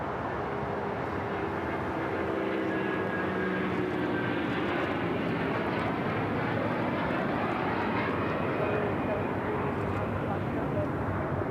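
An all-white Air Union Airbus A330 takes off from runway 25 left at LAX, its jet engines a steady, loud broadband roar that holds throughout without letup.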